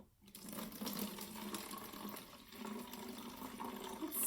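Vinegar pours steadily into a container with a continuous watery trickle, quiet and close, running for several seconds.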